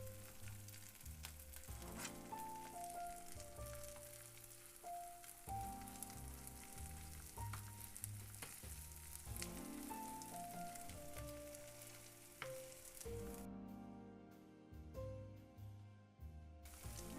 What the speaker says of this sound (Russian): она зашкварчала, признак того, что сковорода готова